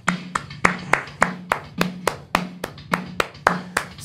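Children in a guitar trial class clap in unison to a fast beat, about a dozen sharp, evenly spaced claps close by, with a low steady pulse underneath and no talking.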